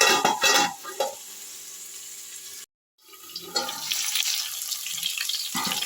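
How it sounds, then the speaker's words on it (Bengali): Potatoes with salt and turmeric sizzle and crackle in a frying pan in bursts of close hiss and stirring, with a brief silent gap midway and no speech. "ভাজা ভাজা হতে ছেড়ে দিচ্ছি 2 মিনিটের জন্য"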